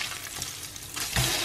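Slices of arme riddere, Norwegian French toast, frying in a pan with a steady close sizzle and a brief louder crackle near the end, no voices.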